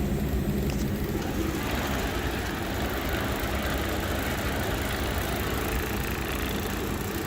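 A Friedrich VRP packaged air conditioner ramping up, a steady low mechanical hum and airy rush with slight vibration, even and continuous at close range with no speech.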